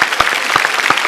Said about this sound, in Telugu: give them a big round of applause